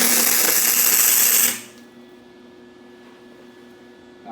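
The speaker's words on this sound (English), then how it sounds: "Now I'll get a little tack in." Tack weld joining a rod to a metal tab on a tubular headlight and radiator core support, a loud harsh buzzing crackle for about a second and a half that cuts off into quiet hum.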